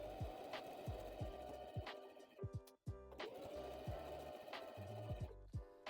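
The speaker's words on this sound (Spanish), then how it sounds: "Hacer este tipo de práctica para aprender a coser en ángulos." A sewing machine stitching fabric at angles runs in a steady, close whirring rattle, stops briefly for the turn, then starts up again with the same humming rhythm.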